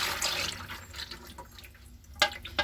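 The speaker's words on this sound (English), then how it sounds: "I'm going to pour my warm oils into this container." Warm oils for a coconut oil soap, pumpkin spice bar, pour into a container, a quiet liquid trickle and splash with a few brief louder spatters near the end.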